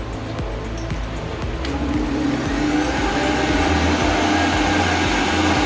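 A Wen dust collector roars loudly and steadily throughout, a dense machine drone with a low rumbling undertone and no pauses.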